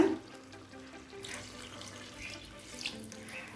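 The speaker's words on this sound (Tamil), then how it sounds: "அடுத்தது தண்ணி சேர்த்துக்கலாங்க." Water splashes into a pressure cooker holding tomatoes and spices for chicken biryani, a short, soft pour that surges briefly and then trickles, heard close and alone.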